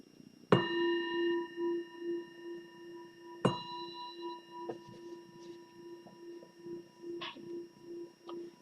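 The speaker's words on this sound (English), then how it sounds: "the bell is the invitation to bring the awareness back to the surface" A meditation bell is struck twice, each ring a clear resonant tone that hangs and fades slowly, with a few lighter chimes and small knocks following in a quiet room.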